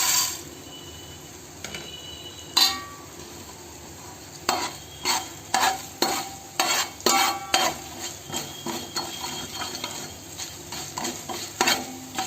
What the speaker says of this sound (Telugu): అటు ఇటు కొంచెం కదిపాక ఇప్పుడు ధనియాలు కూడా వేసుకుని